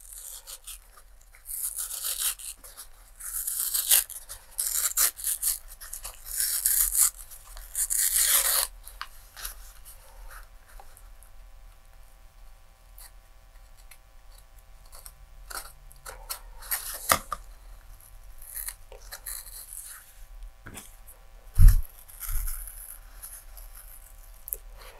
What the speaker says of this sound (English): I'm going to pause the video and peel off the rest of the paper